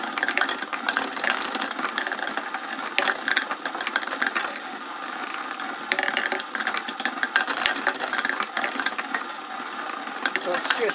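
Multi-blade plastic shredder with cutting blades on a 22mm bolt, running with a plastic part dropped in, producing a loud continuous mechanical grinding and rattling with irregular clatter throughout.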